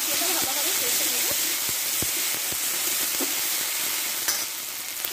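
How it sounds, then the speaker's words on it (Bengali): A ground spice paste of chilli, ginger, cumin seed and a large tomato sizzles and hisses in a hot pan while being stirred and fried, a close, continuous crackle with occasional scraping taps from the utensil. "দিয়ে একসঙ্গে মশলাটা ভালোভাবে কষে নেব"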